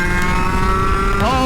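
A fast racing go-kart engine at wide open throttle, a loud close harmonic drone that holds steady and then shifts pitch near the end, with speech faintly under it.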